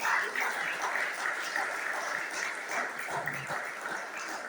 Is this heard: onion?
no